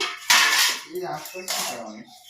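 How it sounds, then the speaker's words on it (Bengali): Khesari shaak leafy greens being chopped on a bonti blade over a plate, giving two loud, crisp cutting bursts with a metallic clatter, separated by quieter rustling and scraping. "দেখো শাকগুলো আমি খুব সুন্দর করে কেটে নেবো।"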